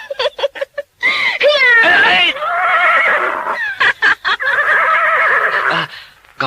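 A horse neighs and whinnies repeatedly as a radio drama sound effect, loud and close, with long shrill whinnies broken by short gaps and snorts.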